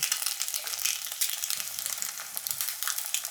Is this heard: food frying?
yes